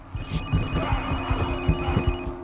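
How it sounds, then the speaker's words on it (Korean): A repeating phone ring pulses steadily in short regular beats, fairly loud and close, with no voices. "톰은 미라에게 전화를 걸어보지만"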